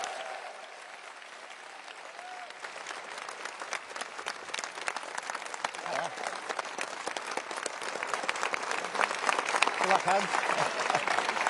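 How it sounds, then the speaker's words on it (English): A political party crowd applauds Labour leader Keir Starmer and deputy leader Angela Rayner, clapping that swells from sparse to dense and loud, with voices calling out over it. "can you now all please give a massive, warm round of applause to the leader of the Labour Party and the deputy leader, Keir Starmer and Angela Rayner"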